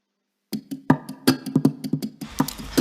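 Sharp percussive hits on an acoustic guitar body mixed with muted string slaps form a syncopated rhythm, close and fairly loud, with no voices.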